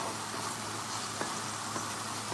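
Salted mushrooms sizzle in a hot pan for a veggie pasta, a steady, bright crackling hiss with a few faint taps as they are tossed.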